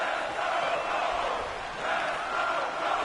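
Steady roar of a stadium crowd cheering in an American football video game on PS4 ahead of a big third down, a broad, continuous wash of noise with a slight swell near the end.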